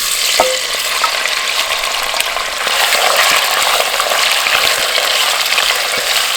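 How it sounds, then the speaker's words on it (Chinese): Beef stir-fries in hot oil in a clay pot with a loud, continuous close-up sizzle, broken by occasional scraping stirs and small crackles. "多煸炒一下哈，把那个牛肉的水汽给它炒干"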